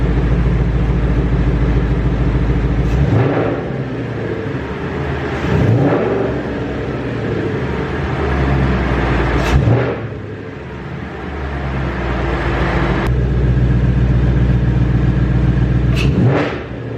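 Car engine with its air filter removed, idling with a steady rumble between repeated revs that rise and fall several times, loud and close, with no talking.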